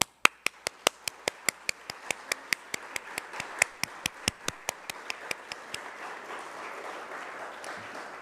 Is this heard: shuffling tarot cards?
no